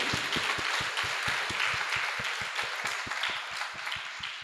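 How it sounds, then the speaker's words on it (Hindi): An audience at a spiritual talk claps in unison, a rhythmic, evenly spaced beat of loud claps over a wash of scattered applause, continuing steadily throughout. "तो आप सबके लिए जोरदार तालियां।"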